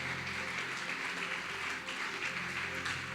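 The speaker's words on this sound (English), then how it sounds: "Please give her a round of applause" Audience applause fills a closing ceremony as a facilitator is welcomed to speak. The clapping is steady and broad from a sizeable crowd, with a faint low hum beneath it.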